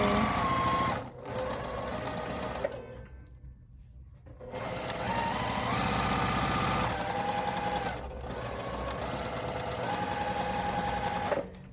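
An overlock sewing machine runs in three fast, steady bursts separated by short pauses, a loud close mechanical whir with a rapid needle rhythm.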